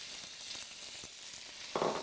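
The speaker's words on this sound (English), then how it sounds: "So I'm just going to add in all that bacon." Bacon sizzling in a hot pan, a steady close frying hiss that flares louder near the end as pieces land and crackle.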